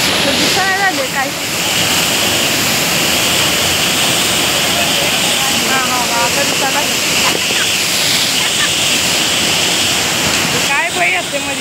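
Thoseghar waterfall gives off a loud, steady, broadband roar of falling water that continues without a break, while several people talk over it nearby.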